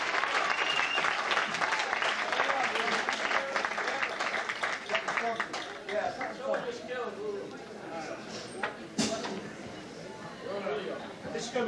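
An audience applauds loudly for guest drummer Steve Holley of Paul McCartney and Wings, dense clapping that fades gradually with a few late claps, while voices talk over it.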